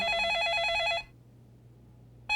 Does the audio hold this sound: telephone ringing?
yes